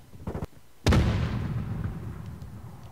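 A grenade explosion in the video game Modern Warfare 2 on PS5: a sudden, loud blast that rolls off into a long, rumbling decay, following a few short thuds of in-game action.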